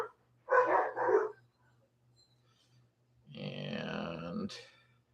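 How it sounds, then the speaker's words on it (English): Dogs at home bark in two close, loud bursts, then after a short pause a longer growly bark-and-grunt sequence rings out nearby. "And my dogs are barking."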